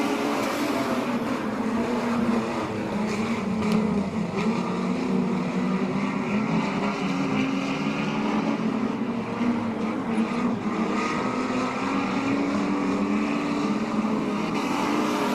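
Street stock race cars roar around Laang Speedway in a 50-lap final. A dense, continuous drone of engines holds steady throughout at moderate distance, with no one speaking.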